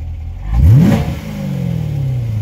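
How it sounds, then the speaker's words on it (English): Corvette Stingray V8 with a 7-speed manual and engine light on gives one sharp rev that rises quickly, then settles into a steady rumbling idle, close by and loud, with no speech. "I'll go and sit inside and rev it so you can hear it."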